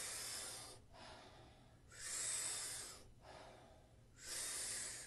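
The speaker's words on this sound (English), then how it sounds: "We're going to be taking about 40 powerful breaths into the body through the mouth or the nose," Deep rhythmic yoga breaths taken through the mouth or nose repeat in a slow cycle, each strong hissing inhale followed by a softer exhale, close and alone without talk.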